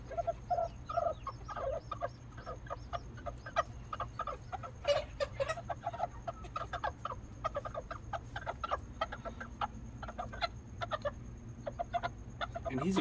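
Miniature chickens cluck in short, repeated bursts while a small rooster calls now and then, close and fairly quiet over a low background hum.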